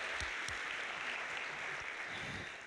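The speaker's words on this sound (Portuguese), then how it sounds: "Será que a gente pode dar mais um salve de palmas para a nossa equipe do teatro?" A live audience gives sustained applause for a church theater team, with dense, even clapping that fades slightly toward the end and no talk.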